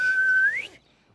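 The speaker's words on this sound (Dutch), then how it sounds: "Fluiten vergt veel oefening." A child's breathy whistle holds one steady tone and then bends upward before cutting off into near silence, close and clear with no voices.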